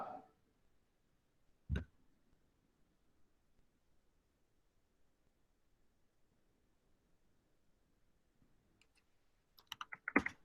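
Computer keyboard typing during an online stand-up meeting: a few isolated, clear keystrokes early, long near-silence, then a quick cluster of clacking keys at the end.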